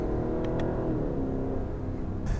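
A 2018 Lexus LC500 on the open road gives a steady, loud engine drone under full throttle, its harmonics rising through the gears with no talk over it.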